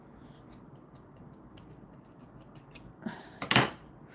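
Scissors snip through crochet yarn while finishing a small crochet star earring, a quick cluster of sharp cuts near the end after a few faint clicks, close and fairly quiet with no talking.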